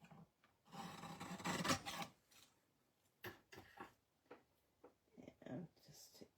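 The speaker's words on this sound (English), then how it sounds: "I'm just going to just bring in my trimmer and I'm just going to trim" A paper trimmer slices through card stock with a soft scraping rasp, one longer sustained cut followed by several brief rubbing strokes, all quiet and close up.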